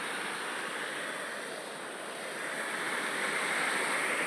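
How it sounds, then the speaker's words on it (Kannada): The Aghanashini river in full flow gives a steady, loud, broad roar of rushing water that swells slightly toward the end, with no voices over it. "ನೋಡಿ ನಿಮಗೆ ನದಿ ಆರ್ಭಟ ಕೇಳಿಸ್ತಾ ಇರ್ಬೋದು."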